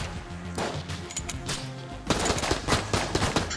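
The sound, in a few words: gunfire and bullets in the video game Enter the Gungeon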